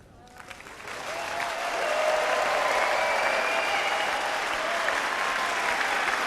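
Audience applause for a cheerleading team, starting quietly and swelling within a second into dense, sustained clapping from a large crowd.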